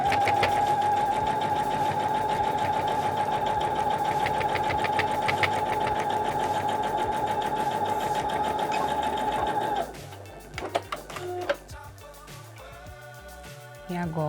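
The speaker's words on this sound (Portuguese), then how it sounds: "E nós vamos costurar aqui de novo." A sewing machine runs steadily for about ten seconds, joining fabric ends for a handmade desk organizer, then stops, leaving scattered clicks and handling sounds.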